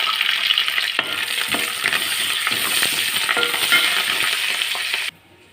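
Black gram (urad dal) tempering crackles and sizzles in hot oil in a pan for a bottle gourd and dried prawn curry: a loud, dense, continuous sizzle close up that cuts off abruptly near the end.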